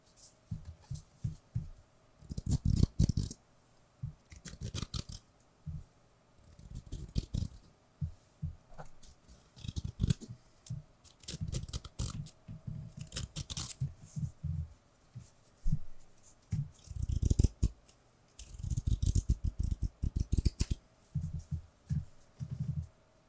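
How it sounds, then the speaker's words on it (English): Cardboard pieces from a World of Warcraft: The Burning Crusade collector's edition are handled up close, giving irregular bursts of scraping, tapping and rustling with short pauses between them and no speech. "Let me just make some card noises."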